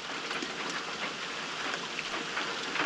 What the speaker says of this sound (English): can't hear anything for the rain